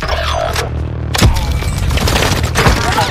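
Rapid automatic gunfire in Call of Duty Warzone on Rebirth Island, loud sustained bursts with heavy booming impacts around 1.2 and 2.7 seconds, dense and continuous across the clip.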